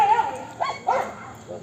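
A puppy gives a few short yips and whimpers close by, brief high cries spread across the moment amid quiet room noise.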